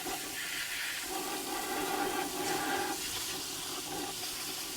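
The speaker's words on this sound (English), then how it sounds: "So I've rinsed through the sample." Water pours and rinses steadily through a river invertebrate sample in a sieve, a continuous close splashing hiss with no talk over it.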